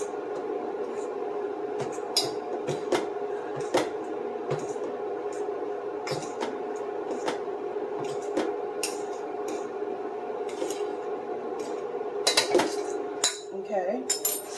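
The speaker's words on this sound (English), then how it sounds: "So then you're going to just stir it around, get it all over the meat" Meat being stirred with seasoning in a pot for chili beans: a utensil repeatedly scrapes and clinks against the pot in an irregular rhythm over a steady low background, close and fairly clear.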